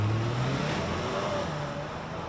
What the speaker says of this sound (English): love the sound of the V6 engine